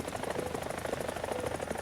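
Helicopter hovering in War Thunder, a steady, dense rotor thrum with rapid regular blade pulses and engine whine, continuous and loud without pause.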